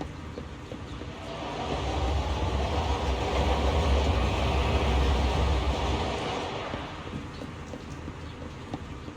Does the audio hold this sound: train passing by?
yes